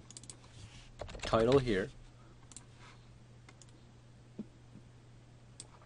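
Quiet, close clicks of typing on a computer keyboard come in short scattered runs, with a brief spoken phrase partway through.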